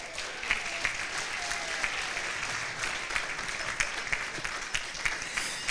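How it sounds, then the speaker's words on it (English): An audience at a spring special event gives a sustained round of applause, a dense steady clapping with a few sharper claps standing out, no voices. "how about a nice round of applause today for Marlon Taylor?"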